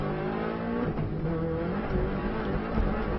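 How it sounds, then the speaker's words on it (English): Subaru rally car driven flat out on an Isle of Man road lap, its engine droning loud and steady close to the microphone while the car jolts over bumps in the road. "Car bumping across the road there."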